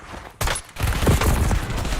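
In Call of Duty Black Ops 6, a semi-auto gun fires a short burst of loud, close shots. A brief gap follows, then a dense stretch of rapid gunfire and game noise.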